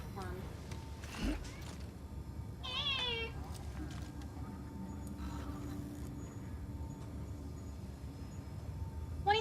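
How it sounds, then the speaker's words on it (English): A pet cat meows several times, thin high cries standing out over faint background noise and quiet talk. "Camp is also meowing up a storm."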